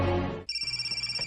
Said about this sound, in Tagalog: Oh, ang cellphone ni Elena, oh, nabilin.